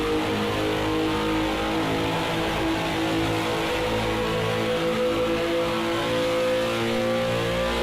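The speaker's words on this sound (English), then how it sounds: "The car revving to the maximum forward, changing those gears to get the power to come up this hill" A Ginetta GT4 race car in Project Cars 2 revs hard under load while climbing a hill, its engine a loud, steady, sustained drone with layered harmonic tones, heard alone.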